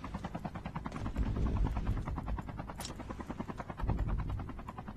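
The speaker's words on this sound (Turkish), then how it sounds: "Helikopterle şu an gezmeler devam ediyor hemen." Rotor thump of a helicopter in Call of Duty Mobile during a tournament match, a steady loud chopping rhythm that swells in the middle and holds throughout the clip, with no speech over it.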